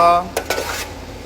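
Metal utensil scraping and clanking against a pot as fried rice with chicken is stir-fried, a few sharp close scrapes over a steady low background.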